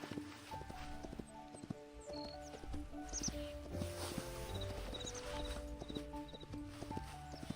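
Horse hooves clip-clop steadily under a ride in the video game Hytale, with a regular rhythm over layered game music and ambient tones, close and moderately loud.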